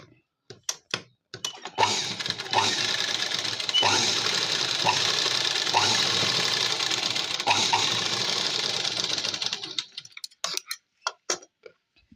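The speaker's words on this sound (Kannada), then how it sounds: "ಈ ರೀತಿ ಹೀಗೆ ಹೊಲಿಸಿ ಇಲ್ಲಿ ಮತ್ತೆ ಒಂದು ಲೈನ್ ಹಾಕಬೇಕು ಇದರ ಮೇಲೆ" A sewing machine stitches a blouse in one continuous, close run of about eight seconds, with scattered clicks and handling ticks before and after.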